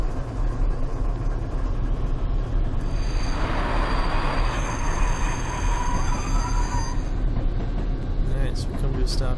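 A heritage-style BNSF train in a video game rolls along with a constant low rumble and a high metallic wheel squeal midway, while someone talks over it.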